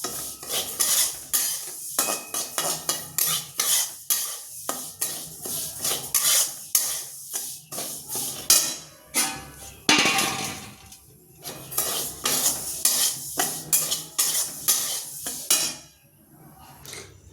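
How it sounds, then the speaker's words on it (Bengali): Broken wheat (dalia) being dry-fried and stirred in a pan, a utensil scraping and clinking against the metal in steady close strokes with a faint sizzle, ending with a brief quieter pause. "বেশিক্ষণ ভাজবো না, সামান্য পরিমাণ একটুক্ষণ ভেজে নেব।"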